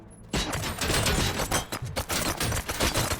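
Rapid gunfire in the shooter game Robocop Rogue City, a dense burst of repeated shots following a brief quiet start, loud and continuous for about three seconds.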